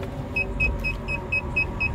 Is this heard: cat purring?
no